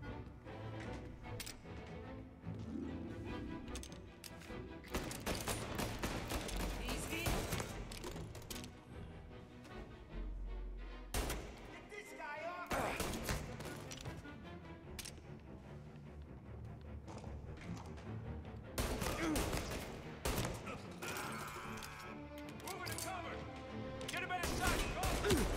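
Gunfire in the video game Mafia: Definitive Edition, with repeated sharp shots and crashes over game music and ambience, fairly dense and loud throughout.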